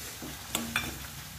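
Capsicum goes into a pan of frying spices with red chilli and coriander powder for matar sabzi and is stirred in: a brief sizzle with a couple of quick scraping strokes.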